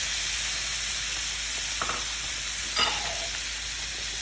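Fresh diced tomatoes go into a pan of sizzling shrimp, producing a steady hiss of frying with a couple of brief clinks and scrapes, close and alone with no voices.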